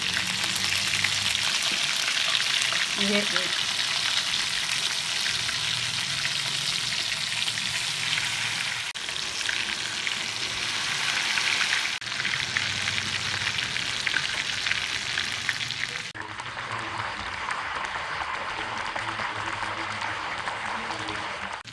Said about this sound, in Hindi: डिप करने के बाद ये ऐसे आप एक एक करके आप ऐसे डालते जाएं।